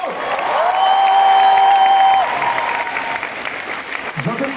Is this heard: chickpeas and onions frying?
no